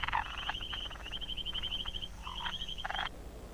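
Frogs croak in East Africa during the rains, giving bursts of rapid trilling calls, some overlapping, with short gaps between them. They sound moderately close against a low, constant background hum.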